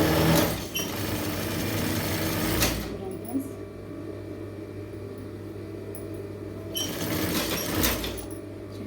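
A sewing machine runs steadily, stitching a kinari border onto a star-neck blouse, with loud bursts of machine whirring at the start and end and a quieter hum between; a voice talks over it.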